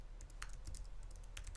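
Computer keyboard keys tapped while a password is entered, a quick irregular run of light, close clicks over a low background hum.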